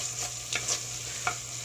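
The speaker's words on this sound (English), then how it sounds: "So I'm just going to keep on stirring this" Onions soften in a Dutch oven as a spoon stirs them, giving a few soft scraping strokes over a low, steady sizzle.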